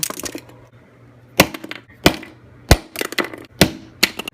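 Sharp, close cracks and snaps as a pencil is smashed, several separate breaking impacts arriving at irregular intervals with small clattering debris between them.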